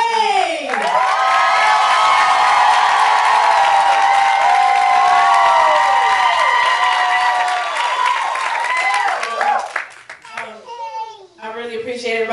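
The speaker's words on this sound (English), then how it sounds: "Can I give a huge round of applause for Miss Sarah Slade?" A live audience bursts into loud clapping and cheering for Miss Sarah Slade at an evening fundraising event, with whoops and shouts sustained for about nine seconds before it thins out and a voice starts speaking.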